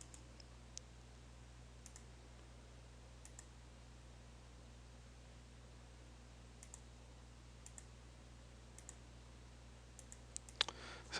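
A computer mouse clicks through a GUI setup wizard for creating a new virtual machine, giving sparse, faint single clicks over a quiet electrical hum, with a quick cluster of clicks at the end.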